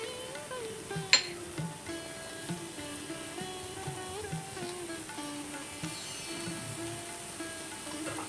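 Fenugreek leaves and kasuri methi sautéing in a pan, a soft steady sizzle with light scraping stirs and occasional clinks, under a voice talking throughout.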